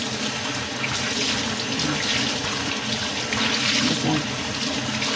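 Running water pours steadily from a tap into a basin while laundry is washed by hand, a loud continuous rush that fills the whole clip.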